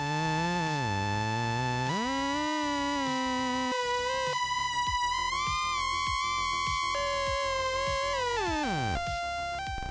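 A Yamaha CS-15 synthesizer with a faulty oscillator 1 that fails to track pitch, playing sustained buzzy tones that slide and jump between notes, wavering and gliding continuously and loudly for several seconds.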